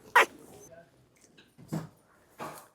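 Small dogs left alone in an apartment give three short, separate whimpering yelps, sharp and fairly close, with quiet pauses between them.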